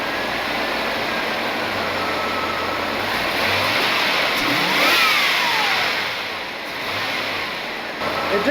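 Chevrolet Caprice engine idling steadily after a long cranking, a continuous mid-range running drone with a brief rise in the middle, heard outdoors amid broad background noise.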